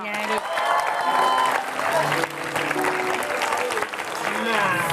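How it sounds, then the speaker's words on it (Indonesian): Applause from a television talk-show studio audience rolls on steadily, and people talk and hum tones over the clapping. "Tepuk tangan dulu dong."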